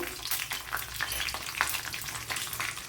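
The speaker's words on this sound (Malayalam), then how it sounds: "കുറച്ച് കടുകും കൂടെ ഇട്ട് കൊടുക്കാം ഒരു മൂന്ന് ഇതുപോലത്തെ പച്ചമുളക് ഉണ്ടെങ്കിൽ ഇട്ട് കൊടുത്താൽ മതി" Mustard seeds and green chilies fry in hot oil for a Kerala pumpkin, okra and drumstick curry, giving a steady close crackle with sharp pops and spatters throughout and no talking.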